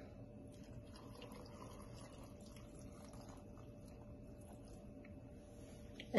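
Water is poured steadily into a blender jar holding cut lemon pieces for a smoothie, producing a continuous soft splashing fill that ends with a brief clunk.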